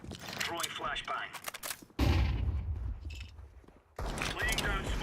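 Flashbang and smoke grenades thrown in the Roblox game Phantom Forces, heard as a sudden loud burst and a rushing hiss that fades, then another burst, all amid busy game noise.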